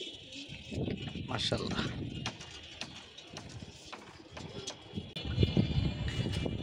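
Pigeons coo at an outdoor loft on a breezy sunny day, soft repeated coos and wing flutters rising and falling beneath a man's speech.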